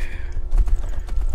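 Horse hooves clip-clop on a road in the video game Skyrim, a quick run of loud, close thuds with a faint whinny-like tone at the start.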